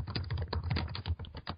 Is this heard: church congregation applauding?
no